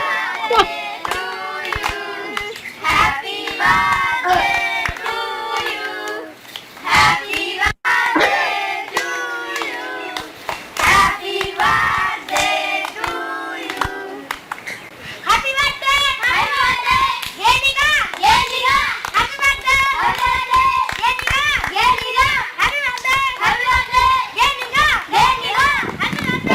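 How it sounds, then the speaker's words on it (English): Children shout, squeal and play continuously in the background, loud and busy with clapping and running, while a game's song plays over it. "hearing children screaming is somehow really stressful"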